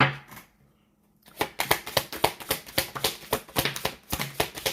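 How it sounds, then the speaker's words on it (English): A deck of Intuitive Empress Twinflame Situations tarot cards is shuffled by hand in a rapid series of crisp, close riffling clicks and slaps after a brief quiet pause, continuing steadily to the end. "Let's just shuffle this for a little bit."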